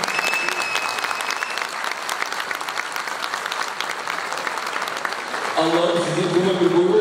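Wedding guests at a Turkish civil marriage ceremony applaud steadily and loudly, a dense continuous clapping that swells near the end as a voice speaks over it.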